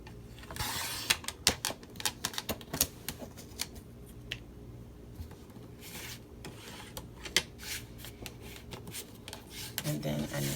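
Cardstock being cut for a handmade passport cover, with crisp rasping snips and scraping strokes coming in irregular bursts, close and moderately loud with no talking.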